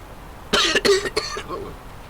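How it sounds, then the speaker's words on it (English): A person coughs in a quick cluster of three or four harsh, close bursts, followed by a softer throat-clearing trail and quiet background. "You might want to mute the sound actually if the coughing is annoying you."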